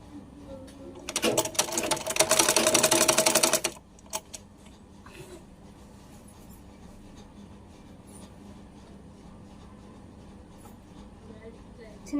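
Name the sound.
sewing machine stitching folded silk saree fabric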